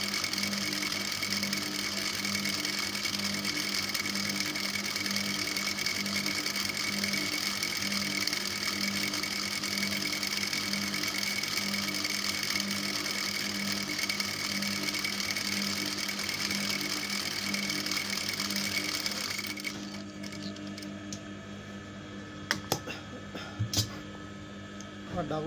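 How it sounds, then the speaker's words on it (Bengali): A sewing machine runs a steady, continuous double-stitch seam on a child's skirt or palazzo fabric, holding an even mechanical whir for about twenty seconds before it stops and a few light clicks follow. "আমি ডাবল সেলাইটি দিয়ে নিচ্ছি।"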